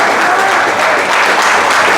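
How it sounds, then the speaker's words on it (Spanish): Loud, close applause from a congregation at a Spanish-language church service, a continuous roar of clapping that stays full and even throughout without any speech on top. "Fuerte el aplauso para él."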